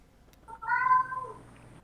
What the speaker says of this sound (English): You can hear my cat in the background.